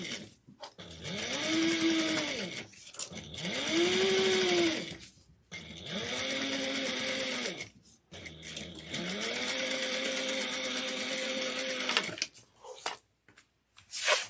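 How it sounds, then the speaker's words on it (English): A sewing machine runs a 3/8-inch seam on a bag in several bursts, its motor whirring up and down with short pauses where it back-stitches at the start and end, close and steady. "we're going to bring this over and sew this at 3/8 of an inch. Back stitching well at the beginning and end"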